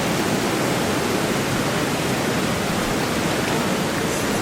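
Rainwater flowing steadily at a build site, a dense, continuous broadband rush like a stream or runoff, close and loud throughout with no voices.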